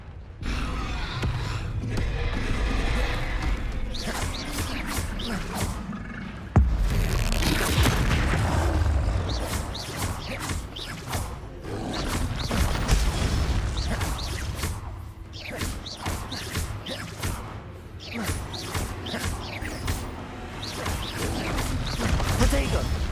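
Repeated Confringo blasting-spell explosions in the Hogwarts Legacy video game, loud booms and crashes that recur throughout amid whooshes and dense combat noise, with talk over parts of it.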